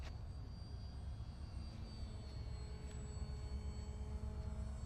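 A ParkZone 940mm RAF S.E.5a WW1 biplane RC model flies on a maiden flight at Chapin RC Field. Its electric motor gives a faint, steady whine over low wind rumble, with no voices.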